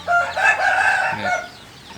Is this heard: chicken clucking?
yes